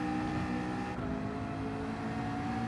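LMP2 race car passing in Gran Turismo 7 during the Rolex 24 at Daytona, a steady loud engine whine and whir throughout, close and continuous, no talk.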